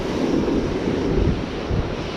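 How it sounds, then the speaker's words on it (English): A strong onshore wind blows across the beach as big choppy waves break, heard as loud continuous rumbling wash and wind buffeting close to the microphone. "There's a strong onshore wind. It's creating these big choppy waves."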